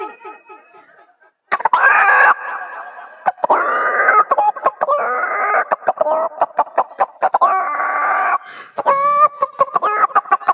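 A man imitates a rooster calling a hen, making loud, close clucking and warbling crow-like calls in a series of repeated bursts separated by short pauses.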